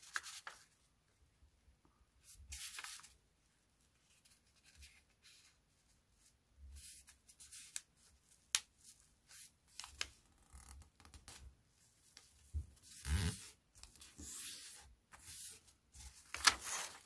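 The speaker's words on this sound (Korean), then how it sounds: "대각선으로 표시선을 만들어요." A sheet of colored paper is folded diagonally to press a crease for an origami fish, giving soft, close, intermittent rustles and scrapes with no voices.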